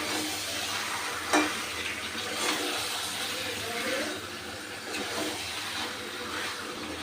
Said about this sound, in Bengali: এবার চিকেনটাকে আমি মশলার সাথে ভালো করে কষিয়ে নেব।